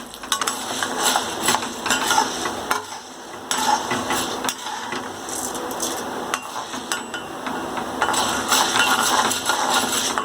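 Chana dal and urad dal frying in a pan with dried chillies for radish thogaiyal, a steady sizzle broken by repeated sharp spatula scrapes and taps, close and fairly loud with no talk.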